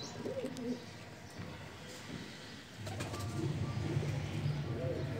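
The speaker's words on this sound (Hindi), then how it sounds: "ये काला कबूतर है" Pigeons, including a black breeding pair, coo softly and repeatedly close by, their low throaty calls layered over a steady background hum.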